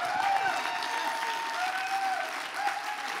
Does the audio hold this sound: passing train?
no